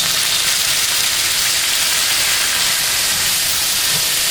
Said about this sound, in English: you want to go ahead and add your stir-fried vegetables to this.